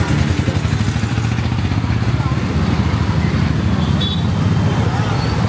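Rush hour traffic rumbles along a road in Pondicherry, India, with small local buses and motorcycles. It makes a loud, continuous engine drone with clattering that stays close throughout.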